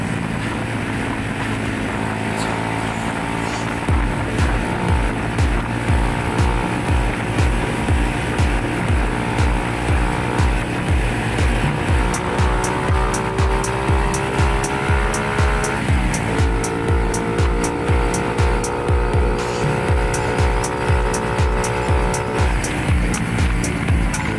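A loud engine running at high revs with a steady rapid throbbing pulse and rising whine, sustained throughout, close by, no voices.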